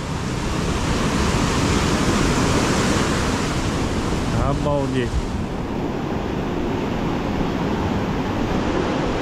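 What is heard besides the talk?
storm waves crashing on the Crimean shore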